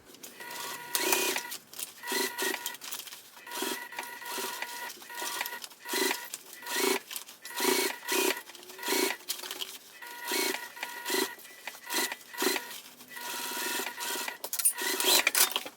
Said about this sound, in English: Let's hurry and sew it, and then we're going to turn it through that opening in the lining.